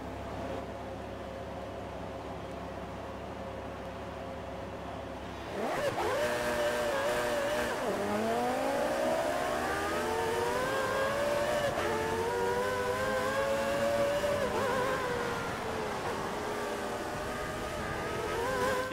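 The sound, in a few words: race cars starting on a wet Silverstone track in a Formula 1 video game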